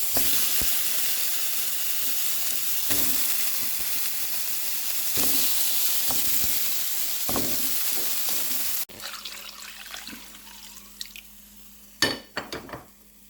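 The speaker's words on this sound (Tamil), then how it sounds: "முதல்ல சட்டியில் மீனை போடுவோம்" Fish pieces fry in a pan of hot oil for a Jaffna-style fish curry, a dense steady sizzle close by with intermittent pops and taps, then quieter crackling and a few louder knocks near the end.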